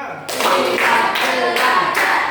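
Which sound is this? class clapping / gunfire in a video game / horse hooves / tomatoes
class clapping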